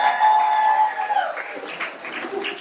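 Comedy club audience at Gregory's in Cocoa Beach applauds, a moderate spatter of clapping that follows a fading tone and tapers off slightly over a couple of seconds.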